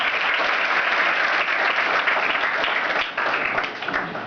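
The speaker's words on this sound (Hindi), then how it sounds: "चलो एक बार सबके लिए ताली बजाओ।" Students in a school assembly clap together in sustained, dense applause, loud and steady throughout with a brief dip near the end.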